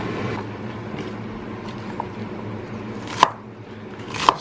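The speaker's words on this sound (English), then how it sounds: "Just quickly chopping up some vegetables, some bok choy." A knife chops bok choy on a cutting board, giving two sharp, close knocks about a second apart over a steady low kitchen background.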